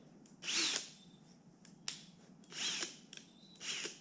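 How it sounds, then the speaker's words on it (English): An electric drill runs forward at slow speed in a shop, whirring in several short separate bursts between brief pauses, fairly faint and with no talking. "Make sure drill bits in forward."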